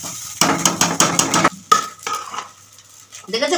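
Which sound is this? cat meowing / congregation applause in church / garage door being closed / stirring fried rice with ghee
stirring fried rice with ghee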